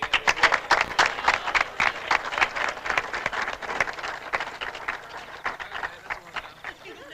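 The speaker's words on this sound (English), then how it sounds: "I think we all owe Peter a warm round of applause" Audience applause breaks out in a crowd, a run of sharp, uneven claps that is loud at first and then thins and fades over several seconds, with some voices mixed in.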